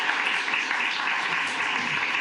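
Audience applause at a county commissioners court meeting, a dense, steady round of clapping from a roomful of people that holds at an even level throughout.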